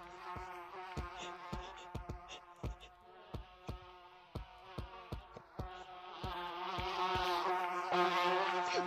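Steady buzzing of chasing bees in a video game drones alongside a series of sharp rhythmic clicks, growing louder and denser toward the end.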